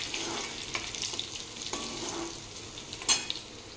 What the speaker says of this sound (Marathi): म्हणून मी लसणाची फोडणी देत आहे